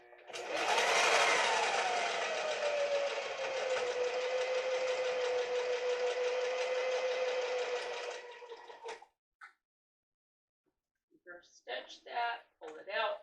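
A sewing machine stitches in one long steady run of about eight seconds, close and whirring, before stopping; brief talking follows after a pause.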